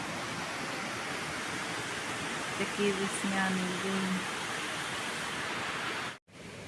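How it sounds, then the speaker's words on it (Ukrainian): Rapids on a spring river rush loudly and steadily, a dense, continuous hiss of water that fills the whole clip, with someone speaking briefly over it partway through. "Дуже шумить порог річки"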